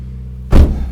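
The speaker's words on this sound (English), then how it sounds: "it definitely sounds like something's loose on the subframe" A car on the move with something loose on its subframe gives one short, heavy clunk-rattle over a steady low road rumble, loud and close.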